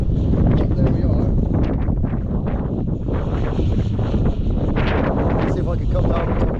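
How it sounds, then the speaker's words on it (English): Strong wind buffets the microphone in steady, loud gusts, roaring and rumbling throughout with no break. "Now it's really windy"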